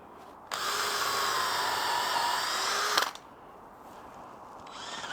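A power drill drives big wood screws into timber for an anvil stand, one steady loud whirring run of about two and a half seconds, then stopping and leaving quiet room noise.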